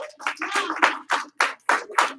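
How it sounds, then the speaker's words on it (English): A classroom group claps on cue, with about seven sharp, loud bursts in a quick, slightly uneven rhythm and short gaps between them. "Give him 1 clap. 3 claps."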